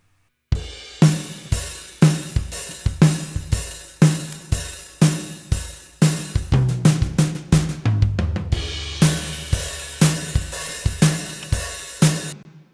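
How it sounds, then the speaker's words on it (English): A repeating synthesized snare wire buzz made from shaped noise, a snare-like hit with a noisy, buzzy rattle tail, played in a steady pattern and loud, with a brief pause before resuming. "I can synthesize snare wire sounds or snare wire buzz using shaped"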